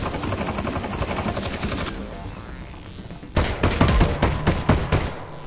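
Gunfire from the virtual reality game Half-Life: Alyx comes first as a dense, sustained rattle, then after a brief lull as a series of loud, sharp shots in quick succession, with no talking.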